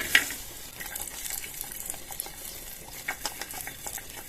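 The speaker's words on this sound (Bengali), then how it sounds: "ভেজে নেব ঘিয়েতে" Cashews, raisins and split cardamom pods fry gently in ghee. There is a quiet, even sizzle with light stirring taps throughout, fairly faint and with no talking.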